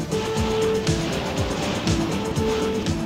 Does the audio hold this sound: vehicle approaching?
yes